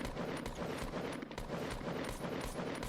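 Assault rifle and SMG fire from the video game Fortnite rattles in rapid overlapping bursts, a dense, steady stream of shots at a moderate level.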